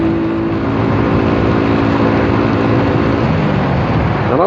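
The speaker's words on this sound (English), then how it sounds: "Did you hear that bike come past it? You hear the engine roar on that." A motorbike engine roars past on a road at night, heard from inside a moving car over a steady loud broadband road rumble, with rising engine harmonics swelling toward the end.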